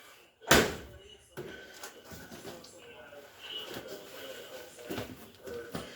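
Door of a Samsung front-load washing machine shut with a single loud slam, followed by low room noise and faint movement in a workshop; speech is present in the background.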